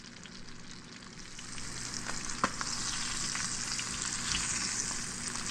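Sardines frying in butter over medium heat, a steady close sizzle and crackle that holds throughout with one brief sharp pop midway.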